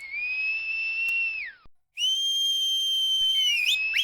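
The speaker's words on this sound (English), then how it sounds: "She whistled. All whistled." Several people whistle long high sustained tones that slide downward, break briefly into silence, then resume in layered overlapping pitches ending in quick rising chirps.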